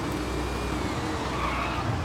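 Rimac Concept 2 electric hypercar braking hard in Forza Horizon 5, a sustained tyre scrub and road roar with whining motor tone, loud and continuous.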